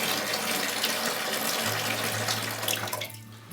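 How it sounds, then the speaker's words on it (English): Liquid poured off the top of activated carbon that has settled in a container, a steady close splashing trickle of water running for a few seconds before tapering off near the end. "Then pour the liquid off the top."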